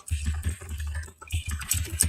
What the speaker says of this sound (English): sorry for the keyboard